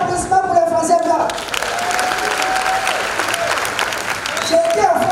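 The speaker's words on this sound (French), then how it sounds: "Un tonnerre d'applaudissements pour les Français blancs." A stage audience at the MASA 2022 performing arts event bursts into thunderous applause that swells after a second and holds steady, with a performer's voice carrying over the clapping at the start and end.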